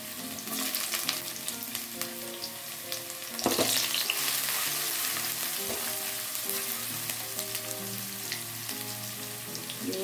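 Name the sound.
sautéing shallots and garlic in hot cooking oil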